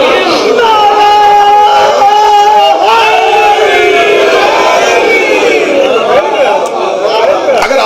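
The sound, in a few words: crowd chanting a slogan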